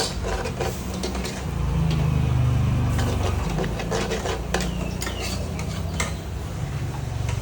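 Rice noodles stir-fried dry in a pan at a made-to-order street food stall, with constant loud scraping and clattering of a spatula over a dense, busy background roar.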